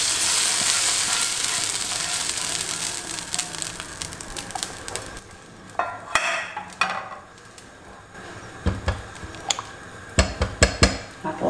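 Golden fried seasoning tipped into a pot of beans for a grandmother's bean minestrone: a bright hiss of sizzling frying, then softer simmering broken by a few clanks of a spoon against the pot.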